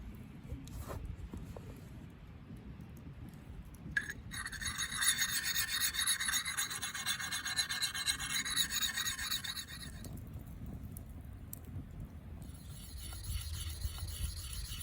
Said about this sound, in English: So I'm just gonna clean up the file marks out here while I got the time